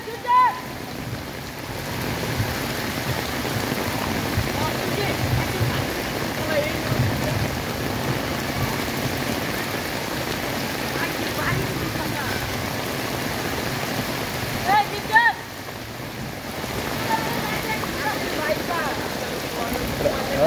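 Steady rain pours down near a technical training centre in Bangladesh, a continuous broadband hiss of drops on surfaces running throughout, with a few faint tonal sounds poking through.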